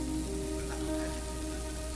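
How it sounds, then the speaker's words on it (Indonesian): Rain falls steadily and evenly, a continuous wash of hiss with a faint low hum beneath it and no voices. "Hujan aja nggak berhenti"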